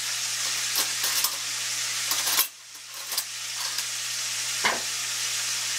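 Chicken wings fry in hot oil with a constant loud sizzle, broken by scraping stirs of a utensil and a brief quiet moment midway.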